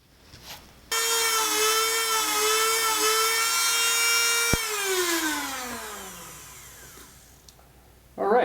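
A rotary tool grinds and smooths the edges of a metal shuttle for an antique sewing machine, a loud sustained high whine that starts abruptly, holds steady, then winds down in pitch, with a short burst at the end.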